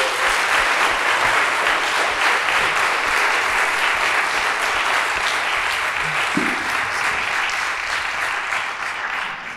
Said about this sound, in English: which I think deserves a huge round of applause